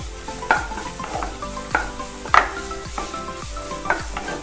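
Sliced onion frying in a pan for a chicken sandwich, a steady sizzle broken by repeated scraping stirs and light utensil knocks against the pan at an uneven pace.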